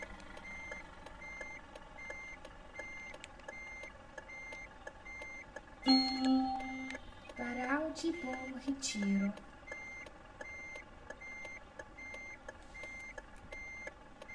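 A bus in the driving game Bus Driving Simulator 22 sounds a steady series of evenly spaced reversing beeps over a low engine hum, while a brief voice announcement plays partway through.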